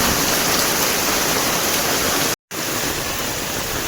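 Heavy rain pours steadily in a Konkan village, a loud broadband wash with no let-up apart from a momentary cut.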